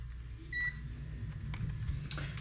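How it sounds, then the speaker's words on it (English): A multimeter in continuity mode gives two short, high beeps while testing a fuse inside a broken PlayStation 2. The beeps sit over a steady low background hum. "if I touch either side of this fuse, if it's good, it should beep"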